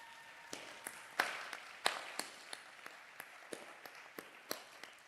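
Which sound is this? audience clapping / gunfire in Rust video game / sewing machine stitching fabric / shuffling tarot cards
audience clapping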